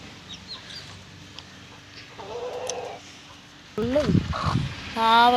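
A hen clucks in short bursts close by, with other bird calls and people talking over the later part.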